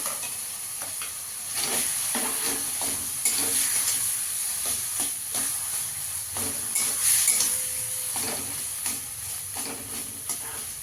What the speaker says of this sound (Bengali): ভালো করে পুরটাকে একটু ভেজে নিতে হবে।